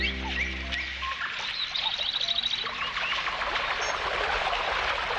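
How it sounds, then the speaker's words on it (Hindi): Birds chirp and tweet in a nature-sounds scene, bright repeated calls over a steady low rumble of water, fairly close and moderately loud. "मैं तो बर्ड्स की चर्पिंग भी सुन सकता हूँ।"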